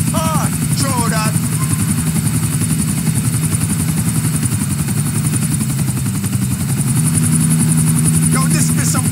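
A helicopter in the game Grand Theft Auto IV, flying over Middle Park, gives a loud continuous rotor thump and engine drone, with brief chirping sounds near the start and end.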